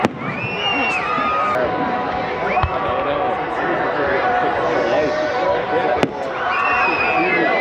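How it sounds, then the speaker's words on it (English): Fireworks go off at a field show, with sharp isolated bangs standing out over continuous crowd chatter and nearby people talking, plus some whistling streaks between the pops. "why are they setting off like one firework like every 30 seconds?"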